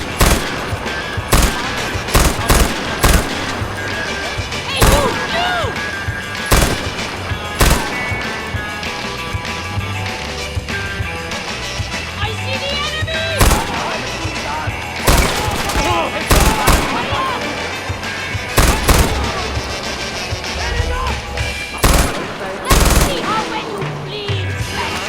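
Rapid, loud gunfire from a powerful gun in a Far Cry video game, sharp shots in irregular bursts over constant battle noise, close up, with occasional talking mixed in.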